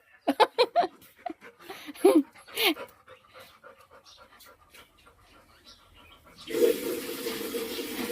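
A golden-coated dog growls close by in several short, rough bursts, then a steady rush of running water takes over near the end.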